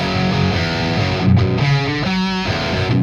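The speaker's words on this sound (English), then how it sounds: "you start with one track of guitar, and it sounds like this." A single heavily distorted electric guitar plays a chunky riff alone, loud and gritty with sustained chords.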